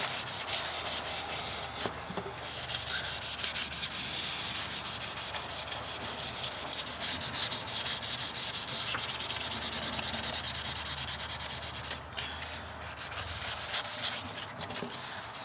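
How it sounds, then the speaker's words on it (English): Hand sanding of primer on plastic car interior trim panels: continuous rhythmic scraping strokes back and forth, close and steady, with brief pauses. "But we don't want to be sanding through the primer,"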